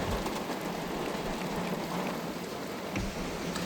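Heavy rain from a thunderstorm drums steadily on the roof and windows of a car, heard from inside as a dense, loud, unbroken wash with no talking.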